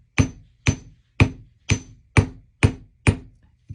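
A hammer strikes formed wire loops in a crafting session, seven sharp, evenly spaced blows about half a second apart, close and loud with no talk.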